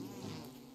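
Angry bees in the survival game Don't Starve Together make a steady, droning buzz that stays even and fairly quiet throughout, with no voices over it.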